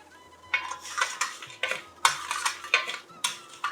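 Sugar being stirred in a pan to make caramel for semiya payasam, with a series of scraping, clinking strokes of a spoon against metal in an irregular rhythm over a faint low hum.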